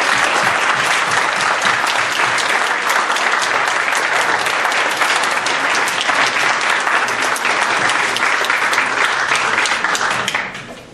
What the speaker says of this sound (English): Would you please join me in a wonderful round of applause?